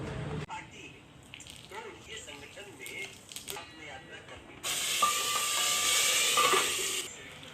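Loud hissing sizzle as spices hit hot oil in a pan for tempering, rising abruptly midway and holding steady for a couple of seconds before cutting off, after clattering kitchen noises.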